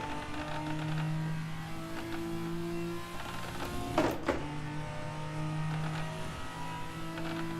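Toyota Supra in a VR racing game driving fast, a sustained engine drone holding steady with a brief louder burst midway, no talk over it.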